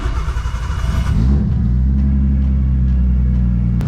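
A Nissan R32 engine running on a dyno, a loud, steady low rumble that swells slightly in the first second, then holds at an even idle-like drone, with no voices.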